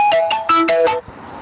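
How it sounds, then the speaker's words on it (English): A mobile phone ringtone sounds loud and close as a rapid run of bright electronic notes, cutting off after about a second. "And that's my phone."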